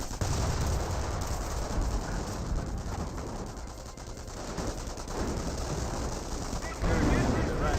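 Close-range infantry gunfire in the World War II strategy game Company of Heroes, a continuous dense rattle of rifles and machine guns mixed with battle noise, loud and unbroken, with a voice talking over it.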